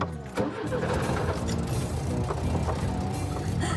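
A car engine turns over and catches, then settles into a steady running rumble as the car pulls away, with some voices faintly in the background.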